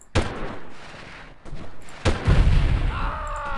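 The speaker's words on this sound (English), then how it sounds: "And who's shooting at me?" Gunfire in the Delta Force military shooter game: a few loud, sharp shot bursts and booming cracks spread across the stretch, with rumbling echo between them and no talking.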